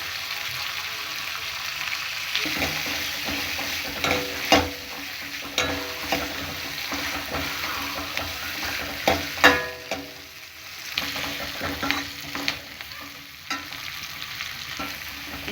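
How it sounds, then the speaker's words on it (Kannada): Onions frying in a pan for a village-style soppina bassaru, a steady close sizzle with repeated stirring scrapes and knocks of a spoon against the pan, without talk. "ಈರುಳ್ಳಿ ಕಂದು ಬಣ್ಣ ಬರೋವರೆಗೂ ಇದನ್ನ ಫ್ರೈ ಮಾಡ್ಕೋಬೇಕು"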